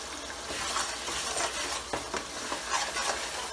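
Onions and spices sizzle in a pan for qeema aloo, a steady broadband frying hiss with occasional stirring scrapes and light clinks, close and continuous, with no talking.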